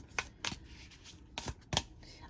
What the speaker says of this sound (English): lastly, we'll look at the overhand shuffle